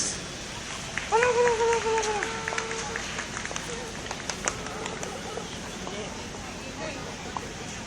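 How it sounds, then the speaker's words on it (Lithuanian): An audience at an autumn fair applauds to welcome a folk ensemble, a dense, steady wash of clapping that swells early on, while a voice briefly rises over it. "Pasitinkame plojimais."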